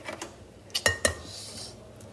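Eggs are cracked against a mixing bowl while baking brownie cookies: a few sharp taps and clicks close by, the two loudest coming in quick succession, over a quiet kitchen background with no talking.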